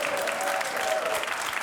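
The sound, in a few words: audience clapping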